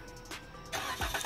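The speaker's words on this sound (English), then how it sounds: "then the car starts right up." A 2015 Chrysler Town & Country Touring L minivan engine fires up by remote start, a faint click followed by a quiet turnover and soft idle heard from nearby.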